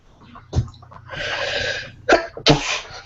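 A sharp, close sneeze bursts out, then a couple of breathy snorts and another quick sneeze-like burst, with no talking.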